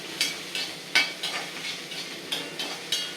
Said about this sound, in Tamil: கருவேப்பிலையை அப்படியே போட்டுக்கலாம் இது நல்லா வறுபட்டு வரணும்